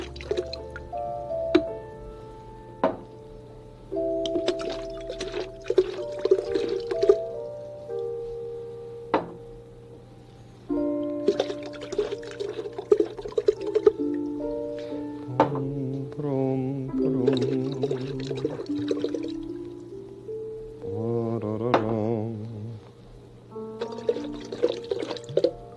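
Fruit juice being poured into containers that form a homemade instrument, heard as bubbling, gurgling liquid with ringing tones and rising pitches across a series of pours, close and fairly quiet, no talking.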